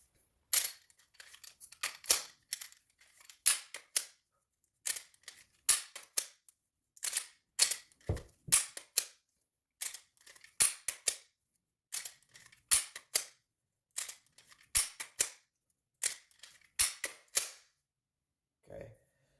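Practice draws of a handgun from a holster, heard as a long series of sharp clicks and snaps in quick clusters, fairly close and quiet, with short pauses between draws and no talk.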